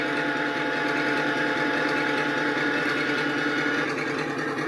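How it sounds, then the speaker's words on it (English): A 1/16-scale RC Sherman tank turret rotates with a continuous high-pitched electric motor whine and gear buzz, steady and close for about five seconds with no talking. "let me just rotate this turret"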